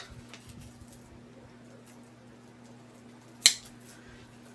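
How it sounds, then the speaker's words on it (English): Scissors cut a 12-inch chenille stem in half with a single crisp snip, heard after a quiet stretch and followed by a faint click at the very end. "So I'm going to fold it so that I can then cut it in half."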